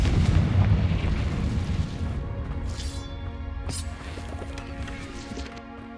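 Confringo fire spell exploding in the video game Hogwarts Legacy: a loud, heavy boom opening the moment, then a long rumbling decay with scattered crackles and sharp game effects.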